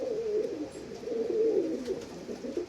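Pigeons of the Jarnail Kanewale blue and dabba breeds coo in a steady, close, low burbling run that rises and falls over several seconds, with no talk.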